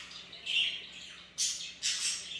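Pet parakeets squawk and chirp in a room, with bright, close calls coming in a few separate bursts and no talking.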